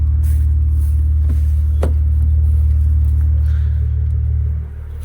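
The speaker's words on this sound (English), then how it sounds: "And let me show you the valves closed." With the valves closed, the Maserati exhaust settles into a steady low rumble close by, with a few brief clicks, easing quieter near the end.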